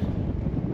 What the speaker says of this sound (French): J'ai un petit vent de face par contre.